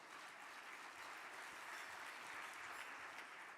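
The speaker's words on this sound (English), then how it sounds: "Give yourselves a round of applause for us all being back in person." Quiet, distant applause from a crowd at a mayors' climate protection awards luncheon, an even wash of clapping that stays steady and faint throughout.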